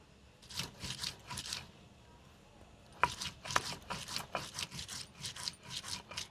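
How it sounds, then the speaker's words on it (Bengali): Onion is ground into a paste on a grinding stone, as for a milk-based snakehead fish curry. It comes through as rhythmic, close rasping strokes, quiet at first and then louder and more regular after a sharp knock partway through. "এইবারে বেটে নেব পেঁয়াজ"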